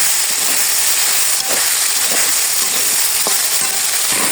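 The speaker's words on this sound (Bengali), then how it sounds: "এখন কষিয়ে নেব, কষিয়ে তারপর রস দেবো।" Spices and ingredients sauté hard in a pan, giving a loud, continuous close-up sizzle and hiss with occasional stirring scrapes, no voices.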